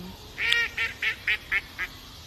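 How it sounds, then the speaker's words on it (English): A duck gives six loud, nasal quacks in quick succession near a poolside, each a short burst with a brief gap between, over faint background noise. "The damn fucking duck started laughing when I said that"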